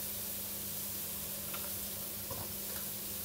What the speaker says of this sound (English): I'm going to put some butter and some oil in the pan